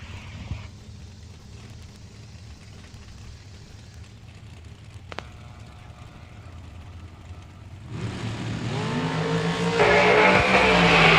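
Dragster race cars at a drag strip event, a low rumble at first, then engines roaring up loudly near the end as the cars launch.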